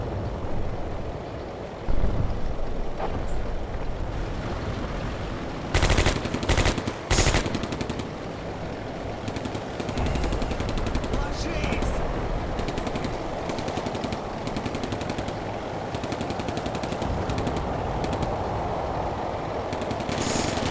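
MG44 and MP40 gunfire from the Combat Mission Barbarossa wargame, a sustained din of machine-gun and submachine-gun bursts with sharp loud volleys standing out against a constant rumbling battle background, no speech.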